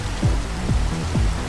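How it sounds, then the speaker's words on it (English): Steady rain hisses in Minecraft during a rain and thunder weather setting, a dense broadband wash with three low swooping rumbles repeating at regular intervals. "set the time to rain and thunder"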